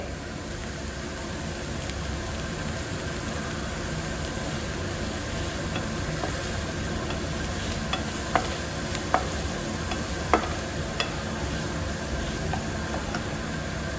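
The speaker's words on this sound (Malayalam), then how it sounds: "ഉള്ളിയൊക്കെ ഒന്ന് വഴന്ന് കിട്ടാൻ വേണ്ടിയിട്ട് പെട്ടെന്ന് നമ്മൾ ഉപ്പും കൂടെ ചേർത്ത് കൊടുക്കുന്നുണ്ട്." Onions sautéing with salt in a pan produce a steady, low sizzle throughout, with a few sharp ticks and scrapes of stirring near the end, close up and with no talking.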